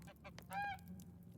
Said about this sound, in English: Be quiet, geese.